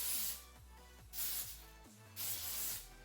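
Hairspray hisses out of an aerosol can onto hair in three short bursts, close and steady, with brief quiet gaps between them.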